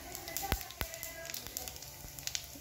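Bay leaf and cumin seeds crackle in a hot kadai, a faint close sizzle broken by sharp scattered pops, with someone talking over it.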